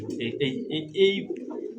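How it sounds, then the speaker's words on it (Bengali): An Iranian hybrid pigeon coos in soft, repeated throaty bursts close by while someone talks over it. "এটা অরিজিনালি আপনার হলো ইরানি একটা হাইব্রিড কবুতর"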